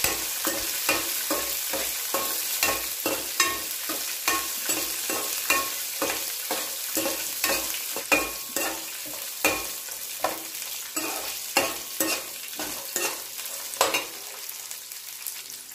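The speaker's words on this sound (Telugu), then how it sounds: "ఉల్లిపాయ ముక్కలు వేగేంత వరకు కలుపుకోవాలి" Onion pieces frying in a pan while being stirred, a soft sizzle punctuated by a steady rhythm of quick scraping stirs, close and continuous.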